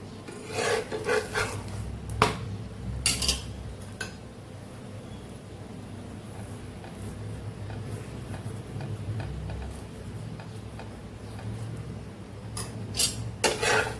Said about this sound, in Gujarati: મીડિયમ ગેસ ઉપર આપણે પરોઠાને શેકવાનું છે